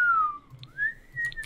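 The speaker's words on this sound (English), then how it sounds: "I can't freaking whistle." A person attempts to whistle, producing a single wavering, breathy tone that slides down and back up, fairly close and quiet over faint background noise.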